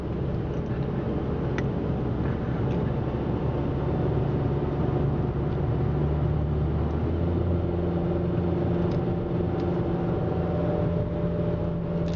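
A 2012 Ford Focus SE driving on a road, heard from inside as a steady, muffled engine hum with road rumble and a gear change partway through, without voices.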